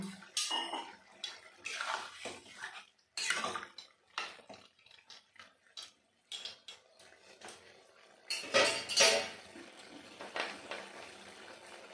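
Water poured into a cooking pot for a rural-style rui fish and bottle gourd curry, heard as bursts of splashing and pouring with short pauses between them, fairly close.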